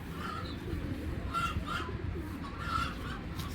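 A big female Belgian racing pigeon gives soft, low cooing notes nearby, repeated a few times over a steady background murmur.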